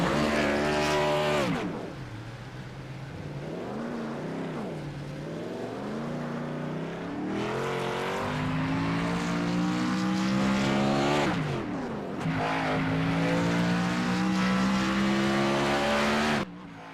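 Race car engines roaring through a race, loud and continuous, with repeated cycles of rising revs, brief drops as drivers shift or lift, and cars passing close by.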